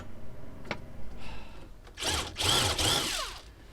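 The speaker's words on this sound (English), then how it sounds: "So there's my pilot holes drilled" Power drill boring pilot holes while converting a Mercedes Sprinter van into a campervan, a short whir followed by a louder revving burst of about a second and a half, close by.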